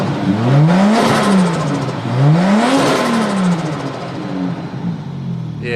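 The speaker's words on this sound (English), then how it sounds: "even with the almost normal engine and a RB25 turbo, so it's slightly bigger, and that exhaust manifold, it sounds way better than mine" A modified car with a near-stock engine, an RB25 turbo and an upgraded exhaust manifold revs hard twice, its pitch sweeping up and falling back each time, then settles into a loud, raspy idle close by.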